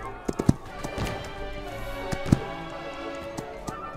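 Hooves of a horse in the game Holdfast strike in a loose, uneven series of hollow clops, a few louder hits standing out over a steady low background.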